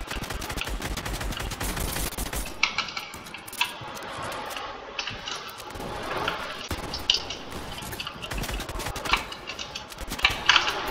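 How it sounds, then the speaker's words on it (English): Rapid gunfire from a Fortnite match while under sniper fire, irregular bursts and sharp shots cracking over a dense, busy game soundscape with no talk. "Oh crap, being sniped at."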